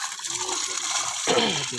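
Water splashes and gushes steadily as it is poured out, with a fuller surge of pouring near the end.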